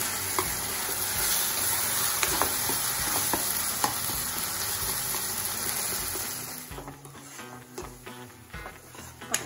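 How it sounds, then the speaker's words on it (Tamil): Chopped tomatoes sizzle and fry steadily in a pan while being stirred for a masala curry base, the sizzling running continuously before easing off near the end. "தக்காளி எல்லாம் நல்லா வதங்கிடுச்சு"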